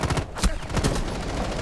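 Gunfire in the tactical shooter Rainbow Six: Siege, a quick burst of several close, loud shots packed together during a round.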